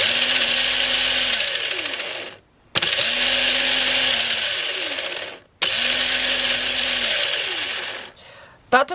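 The small electric motor of a twenty-year-old Tamiya M-03L RC car whines steadily on a 7.2 V NiMH battery pack. It runs in three bursts of about two and a half seconds each, separated by brief cutoffs, rising and falling at each start and stop.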